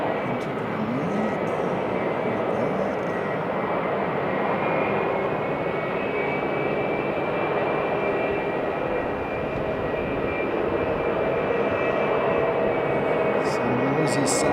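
A Thai Airways jet airliner lands on the runway at Sydney airport, its engines roaring loud and steady for the whole stretch with a sustained low rumble, while a voice talks faintly underneath.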